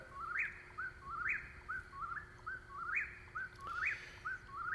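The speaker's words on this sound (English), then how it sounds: "here we are with the whippoorwill" A whippoorwill calls over and over in a steady rhythm, each clear whistled phrase rising then dropping, moderately distant against a quiet night background.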